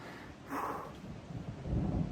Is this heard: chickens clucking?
no